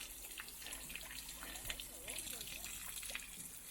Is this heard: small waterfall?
yes